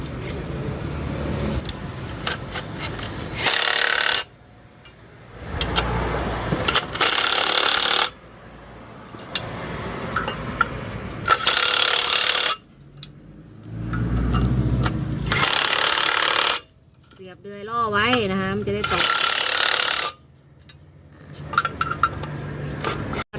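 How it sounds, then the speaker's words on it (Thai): Repeated bursts from an impact wrench tighten nuts on a Mitsubishi Strada 2.8 during a clutch repair, several loud rattling blasts of about two seconds each separated by quieter pauses filled with clinks and shop noise. "ขันแน่นเลยนะ ใช้บล็อกยิงนะฮะ"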